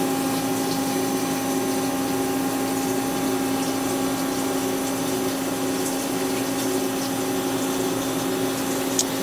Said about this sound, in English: This tool is going to do the OD finishing.